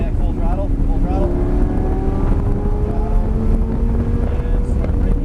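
A car engine at full throttle on a track roars loudly and steadily, its pitch climbing through the gears with wind buffeting the microphone throughout.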